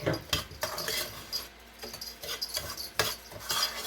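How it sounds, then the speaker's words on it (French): Dry rice being toasted by stirring in a pot with the heat off, heard as close, quiet scraping and rustling strokes of a utensil against the pot in an irregular rhythm, with no talking. "je vais griller un petit peu le riz à sec"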